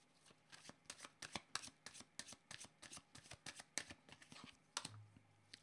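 Tarot cards are shuffled by hand in a quiet room, a run of soft, rapid riffling slaps and flicks in uneven bursts, close and faint.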